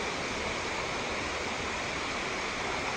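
Waterfall of the Salto Vives on the Río Cañas pouring down to the river, a dense, continuous rushing roar that is close and steady throughout without pauses or voices.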